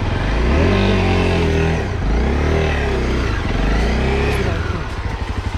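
A Honda CRF250L dual-sport motorcycle revs hard off road, its engine loud and close, surging up and dropping back in repeated waves before settling into a rough idle.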